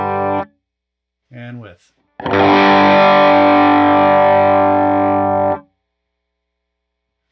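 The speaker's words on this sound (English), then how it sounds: "So the overdrive I want to use for this one is the heir apparent." An electric guitar runs through an Heir Apparent overdrive pedal modelled on an HX Stomp, ringing out as one loud sustained distorted chord for about three seconds. Before it come two brief spoken words and a short muted strum.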